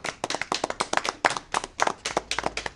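A small audience claps for a president in quick, sharp, uneven bursts, close and clear for a few seconds with no voices over it.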